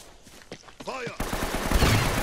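Gunfire in the Uncharted video game erupts as a loud, dense volley that breaks in suddenly after quieter movement and a brief voice, continuing to the end.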